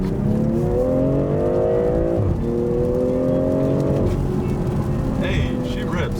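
A BMW M340i in Sport Plus mode accelerates hard, its engine note climbing through gears with rising sweeps and a shift-like drop partway, loud and continuous inside the cabin.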